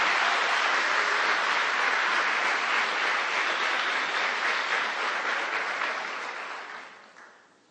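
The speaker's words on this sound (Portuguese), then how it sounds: "Pode aplaudir para valer mesmo, forte, corajosamente." Church congregation clapping loudly and continuously, a thick wash of many hands that stays strong for several seconds and then fades away toward the end.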